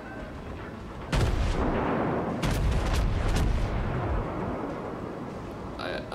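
Heavy naval guns boom in the World of Warships video game, a few loud blasts with rumbling tails and a short cluster of shots, near and dominant with no talk.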